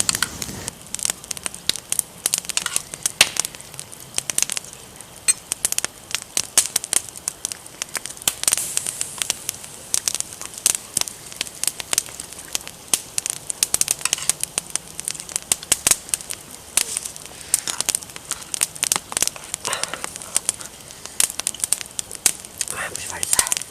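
A campfire crackles steadily with dense sharp pops and snaps, close and fairly loud throughout, a dog lying nearby in the outdoor camp.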